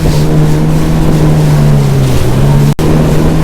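A Yamaha WaveRunner engine drones in a steady low hum beneath loud, rushing wind noise, continuous and close, with a brief dropout near the end.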